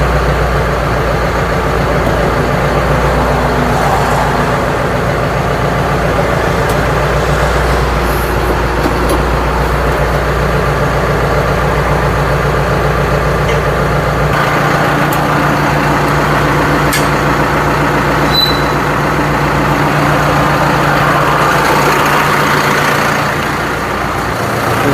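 Tractor engine idling steadily close by while a homemade hydraulic log splitter is hitched to it, a continuous low drone with a few faint metallic clinks over the top.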